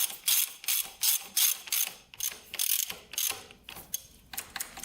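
Ratchet tightening the spring lever on a Kawasaki KX 80 dirt bike, a close, rhythmic series of sharp clicking ratchet strokes, about a dozen bursts, no talk.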